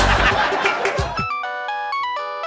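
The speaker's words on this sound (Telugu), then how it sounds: "మా కాబోయే ఆవిడ ఫోన్ చేసింది." A phone ringtone for an incoming call plays a repeating electronic chime melody, clear and fairly loud, after a burst of noisy studio-stage sound at the start.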